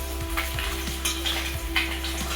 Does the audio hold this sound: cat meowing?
no